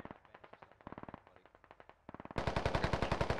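Gunfire in the video game SquadOps: rapid automatic bursts of close, sharp shots in quick rhythmic strings, broken by a brief pause, then a louder, denser volley that keeps going to the end.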